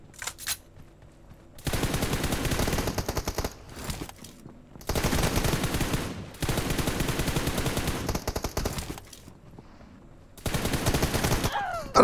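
Long, loud bursts of automatic gunfire in a mobile shooting game played on a Samsung Galaxy phone, several sustained volleys separated by short quiet gaps, close and harsh.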